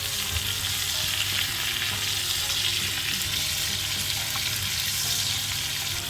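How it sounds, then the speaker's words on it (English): Pork chops sizzle and crackle steadily in a hot pan while being basted, a continuous bright frying noise with no voices. "whilst I'm frying it, I'm going to keep basting them"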